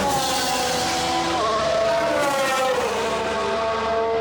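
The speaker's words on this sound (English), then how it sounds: "You really need to go to a track of some kind to hear the V6s roar in anger" Formula 1 V6 race engines roar past at Circuit de Catalunya, a loud, continuous high-pitched whine with pitch sweeps as cars accelerate and shift, heard from trackside without talk.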